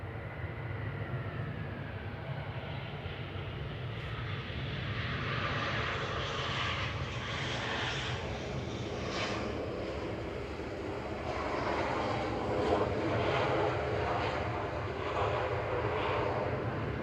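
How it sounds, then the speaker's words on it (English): An EasyJet airliner arriving from Palma de Mallorca at Manchester Airport, its jet engine roar a steady, loud broadband rumble that swells slightly over about seventeen seconds, no talk. "EasyJet 7269 from Palma de Mallorca here."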